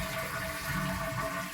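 A toilet flushing as its tank is emptied with the water supply shut off, ahead of a flapper replacement; a steady, close rush of draining water fills the whole stretch with no voices.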